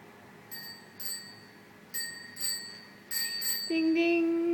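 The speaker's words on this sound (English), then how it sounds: "Yeah, you like the bell?" The bell on a child's new tricycle rings in quick ding pairs, several bright chimes spaced apart, close and clear, with a voice starting up at the end.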